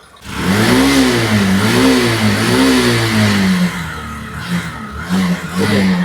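A Hero BS6 motorcycle, a Glamour or Passion Pro blowing white smoke from oil in the silencer, is revved up and down with the throttle. The engine climbs and falls in several close, loud surges.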